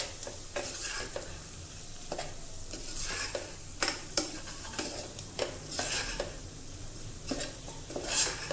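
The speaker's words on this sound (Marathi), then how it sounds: "आता आपण त्याच्यामध्ये हळद टाकूया छान मिक्स करून घ्यायचं आहे" Fried onions being stirred with turmeric in a pan for potato bhaji, with repeated scraping and clinking of a spoon against the pan over a soft continuous sizzle.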